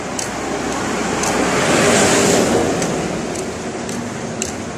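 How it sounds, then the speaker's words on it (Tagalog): Trucks rumble past on a roadside before dawn, a loud continuous roar of traffic swelling as one passes close and then easing, with occasional knocks and clatter. "Daming truck pag madaling araw."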